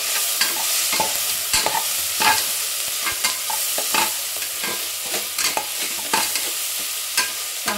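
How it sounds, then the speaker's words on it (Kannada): Biryani masala being stirred and fried in a pan, with steady sizzling broken by repeated scraping strokes of a spoon in an uneven rhythm, close and fairly loud, with no talking. "ಹಸಿ ವಾಸನೆ ಹೋಗೋ ತನಕ ಒಂಚೂರು ಕೈ ಹಾಕಬೇಕು"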